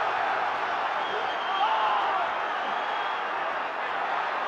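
Boxing crowd at a George Foreman fight cheering and applauding, a dense, continuous roar of many voices and hands that stays loud and steady throughout, with no distinct breaks.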